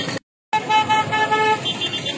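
Busy street traffic of cars, motorbikes and scooters crowding around the Dibrugarh Jagannath temple during the Rath Yatra festival, a steady close rumble broken by a long held horn honk after a short silent gap.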